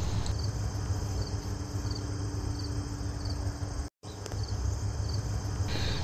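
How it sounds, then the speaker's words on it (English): Crickets chirp steadily in a repeating high trill over a low rumbling background, with a brief dropout near the end. "I swear I didn't add those cricket sounds"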